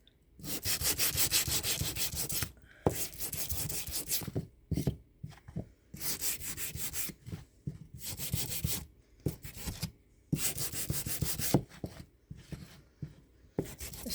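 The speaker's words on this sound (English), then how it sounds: "I am sanding it, seeing if I can't get some of the" Hand sanding of a wooden desk art crafting piece: rhythmic back-and-forth scratchy strokes in bursts with short pauses, close and clear with no talking.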